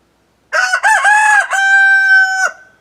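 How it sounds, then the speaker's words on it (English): A rooster crows once, loud and close, a single full cock-a-doodle-doo with a choppy start and a long sustained final note. "That's not a bad cock-a-doodle-doo, buddy."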